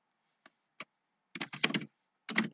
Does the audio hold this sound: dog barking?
no